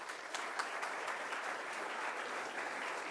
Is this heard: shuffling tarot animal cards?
no